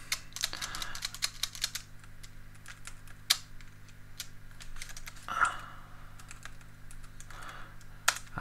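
Typing on a computer keyboard while entering a fixed value in OpenFOAM setup, heard as scattered, clicky keystrokes in short bursts and single taps over a steady low hum, fairly quiet and close, with no talking.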